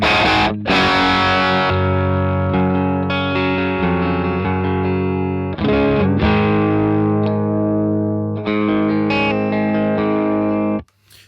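Electric guitar played through a crunchy, distorted amp, chords ringing and sustaining loudly with a few brief pauses between phrases, no voices.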